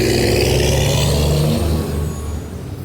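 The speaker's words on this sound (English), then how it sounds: "So my truck was the one drowning my sound, my voice." A truck engine roars loudly nearby with a sustained revving drone, then eases off and fades somewhat toward the end, no talk.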